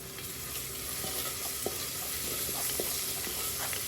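Low, steady sizzle of salted onions frying with soft scraping and stirring clicks from a utensil against the pan.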